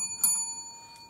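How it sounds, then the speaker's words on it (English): At a Year 9 school debate, a double bell marks the end of the speaking time: two short, bright metallic rings about two-thirds of a second apart, the first stronger, over a steady faint electronic hum. "a double bell will sound at the speaking time"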